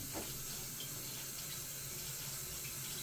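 Tap water runs steadily into a small sampling container for a chlorine test of a carbon filter, a continuous close hiss and splash at an even level throughout, no speech.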